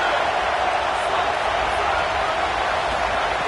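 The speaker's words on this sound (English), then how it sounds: "Decibels rising as the crowd gets behind this defense on third down" A college football stadium crowd during a USC versus Penn State game roars on third down as the defense takes the field, a dense, loud, sustained wall of noise with no break.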